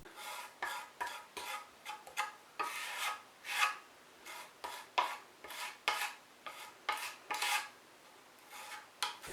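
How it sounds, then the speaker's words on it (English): Fresh plasterboard joint compound filler stirred in a tub, heard as a close run of rhythmic scraping and rubbing strokes, roughly two per second, each a short gritty swish separated by brief pauses. "we'll just mix some fresh filler up"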